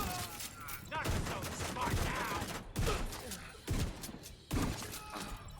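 An exotic shotgun fires in The Division 2, with several heavy blasts in a rough rhythm about once a second. Game effects and a voice talking fill the gaps between the booms.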